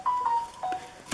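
A mobile phone's notification chime plays indoors, a short pair of bright tones followed by a second brief tone, faint and alone.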